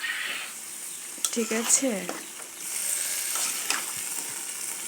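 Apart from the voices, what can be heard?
vegetables poured into hot pan, frying sizzle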